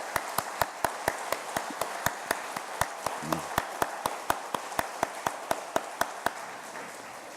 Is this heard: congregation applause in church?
yes